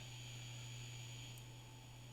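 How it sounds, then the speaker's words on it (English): A cassette recorder's steady low electric motor hum with a constant tone, faint and even throughout, with a soft hiss above it and no voices. "I can hear motor hum"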